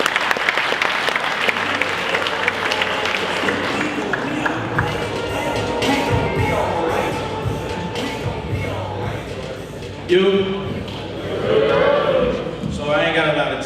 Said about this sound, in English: Y'all give him a round of applause, all right?